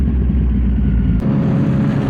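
Loud, close engine drone from a Kawasaki Ninja 1000 motorcycle while riding through a turn, a steady rumbling tone that shifts pitch slightly partway through, heard alone without talk.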